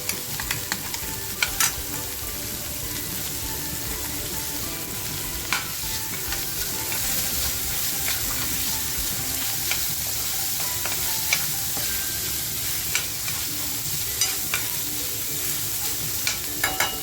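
Chopped onion sizzles and fries in a pan for a spicy vajdi (mutton tripe) masala, a steady crackling hiss with occasional stirring scrapes, close and continuous with no talk.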